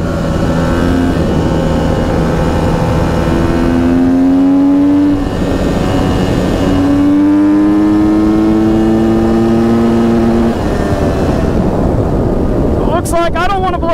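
A Husqvarna FC250 motorcycle engine holds a high, buzzing whine near top speed and climbs through several rising pulls. The engine sounds close and loud, with heavy wind rush over it throughout.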